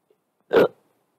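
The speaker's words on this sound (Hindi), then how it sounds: "बहुत ज्यादा हिचकी आ रही" A man gives a single sharp hiccup, close and brief, in an otherwise quiet room.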